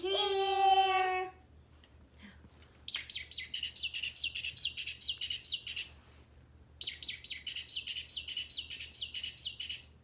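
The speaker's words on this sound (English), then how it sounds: "That's a mockingbird." Mockingbird singing in Texas, bright chirping phrases repeated in two clear runs with a pause between, fairly faint over a low steady hum, after a brief tone at the start.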